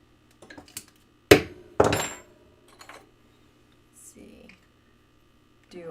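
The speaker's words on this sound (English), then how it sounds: "We'll go ahead and center punch that too" Two sharp metallic strikes of a hammer on a center punch, close and loud, with softer taps and handling clatter around them and someone talking at times.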